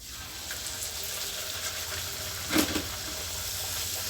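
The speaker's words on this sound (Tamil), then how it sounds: "நல்லா எண்ணெய் சுட சுட வச்சு இந்த மாதிரி போட்டு ஒரு அமுக்கு என்ன போதும் பூரி புசு புசுன்னு எந்திரிச்சிரும்" Wheat-flour puri fries in hot oil with a steady, close sizzle and a brief louder bubbling burst midway.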